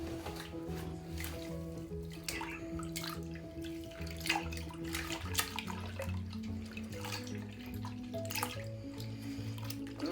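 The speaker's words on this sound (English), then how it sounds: "I'm going to squeeze the soap through the yarn" Yarn is squeezed by hand in a bucket of water with pH neutral detergent, giving quiet, close sloshing and squelching with soft drips in an uneven rhythm, under a low steady background hum.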